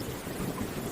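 Faint thunder rumbling low in the distance beneath steady rain noise, a soft continuous wash with no sharp cracks.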